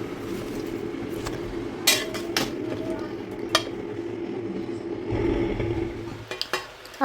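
Vegetables wilting with salt in a pan are stirred and tossed, giving a steady low frying hiss broken by a few scraping clinks of a spoon against the pan.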